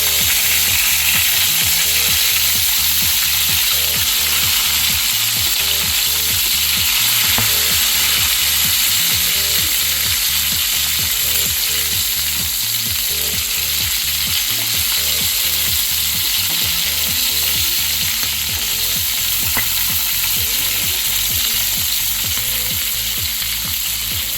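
Stuffed green chillies fry in an oiled pan, a steady loud sizzle running unbroken with a low rhythmic rattling underneath throughout, no voices.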